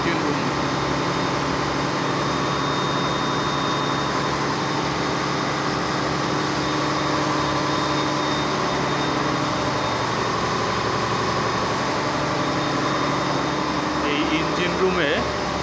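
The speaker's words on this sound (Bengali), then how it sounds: "এটা হচ্ছে লঞ্চের ইঞ্জিন রুম।" A passenger launch engine drones in its engine room at Sadarghat on the Buriganga River in Dhaka, a loud, unbroken mechanical roar throughout, with voices faintly mixed into the din.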